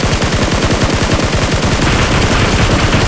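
Loud, rapid automatic bursts of SCAR-L rifle hip fire in the PUBG video game, a dense run of close gunshots rattling almost nonstop across the whole stretch with no talking.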